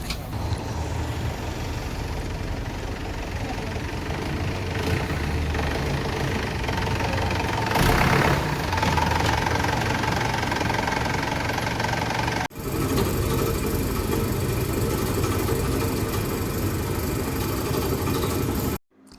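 A tractor's diesel engine runs close by at a steady, knocking idle, swells briefly louder midway, then cuts off abruptly at the end.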